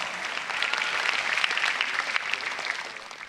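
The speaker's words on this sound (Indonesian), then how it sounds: "Jadi bolehlah beri tepuk tangan buat Hisham." An audience at a stand-up comedy competition show applauds, a steady dense wash of many hands clapping throughout, with no speech over it.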